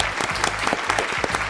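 An audience at a deaf theatre event applauds steadily throughout, a dense burst of clapping from a crowd welcoming a performer on stage.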